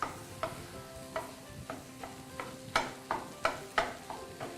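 Five whole eggs being stirred as they fry in a pan for chicken and egg fried rice, with a faint sizzle beneath about a dozen soft rhythmic scrapes of the utensil, close and quiet.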